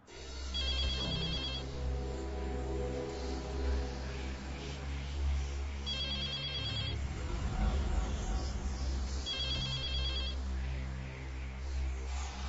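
A telephone rings in three repeated bursts, each a shrill electronic trill, with a steady low hum and some background noise between rings.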